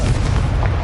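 A Confringo blasting curse explodes in Hogwarts Legacy, a loud, booming blast that fills the whole brief moment.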